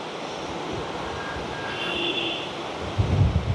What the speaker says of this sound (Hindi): नदी की आवाज़ सुनो यार,